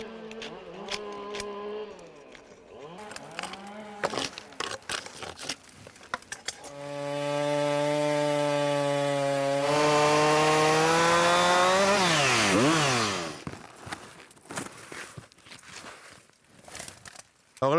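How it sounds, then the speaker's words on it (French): A chainsaw revs, idles and bites into a storm-felled tree trunk in a forest, its engine pitch rising and falling through several throttle bursts before a sustained cut, heard close and alone. "je vais scier plus ou moins déjà un tiers du tronc"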